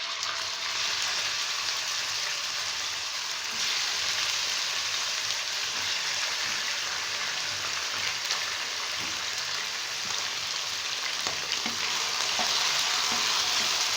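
Chicken and garlic sizzle in hot oil in a pan for restaurant-style Chinese rice, a steady close crackling fry with occasional stirring scrapes, no voices.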